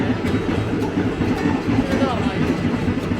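A retro Thai State Railway train on the Nam Tok line between Kanchanaburi and Bangkok, with open windows and doors, rumbles along with a steady rhythmic clatter of wheels on rails and constant wind and rattling.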